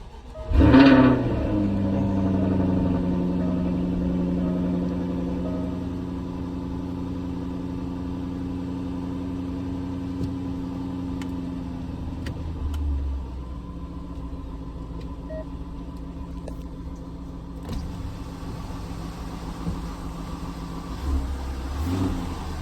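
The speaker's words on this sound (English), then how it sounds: "I'm about to go ahead and do the first startup on the vehicle" A Jaguar F-Type R engine cranks and catches on its first startup, then settles into a steady, close idle with a low rumble that carries on for the rest of the clip.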